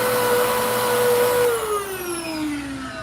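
Monroe vacuum cleaner motor running with a faulty, changing pitch: a steady loud whine that holds, then slowly drops and wavers, alone with no talk.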